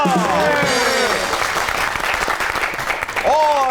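Studio audience applauding a guest on a comedy talk show, a dense, loud wash of clapping that holds steady throughout, with a host's voice speaking over it at the start and end.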